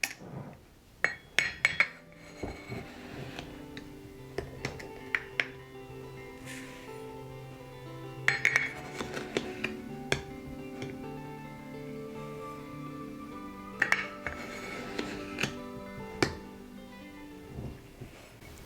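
Half-cup measuring spoon clinking against a bowl and containers while white sugar is scooped for a pound cake, with a run of sharp metallic and glassy taps scattered over about eighteen seconds, close and fairly loud.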